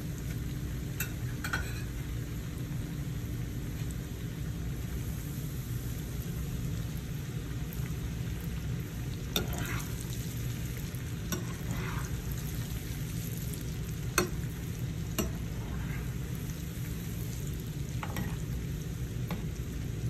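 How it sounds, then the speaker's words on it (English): Peanut butter chin chin dough fries in oil with a low steady bubbling hiss, broken now and then by faint clicks and scrapes of stirring. "So you just have to keep stirring."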